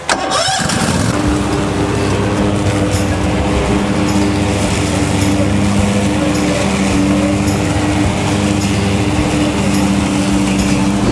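A Cedrus C-TRAC 102HC garden tractor starts up and mows heavy, overgrown ground, its engine catching after a short crank and then running in a loud, steady drone.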